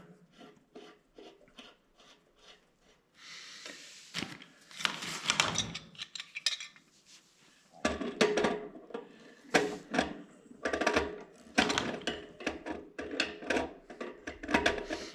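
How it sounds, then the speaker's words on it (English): Metal pipe fittings coated with pipe dope are threaded into a 1-inch water line, giving a series of rhythmic scraping, rasping turns in short bursts, close up and moderately quiet, with pauses between. "I thread them in here"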